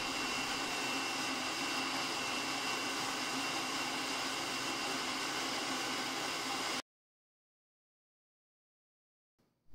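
A food processor on its puree setting blends sweet potatoes with butter, giving a steady, loud motor whir for about seven seconds that cuts off abruptly, followed by near silence and a faint clunk at the end.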